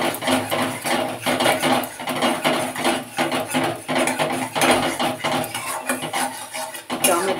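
Tomato, chili and turmeric being stirred and fried together in a pan for a pakora curry. A spoon clinks and scrapes against the pan in a steady, repeated rhythm over a continuous frying hiss.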